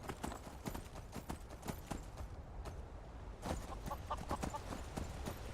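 In the Skyrim video game, a horse's hooves clip-clop in a steady walking rhythm, moderately close and fairly faint, with a brief pause partway through.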